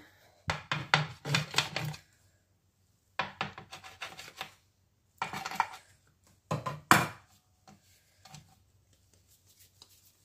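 Brioche dough is cut and divided on a table in bursts of sharp knocking and scraping taps, several quick clusters separated by quiet pauses, close and fairly loud, with no voices.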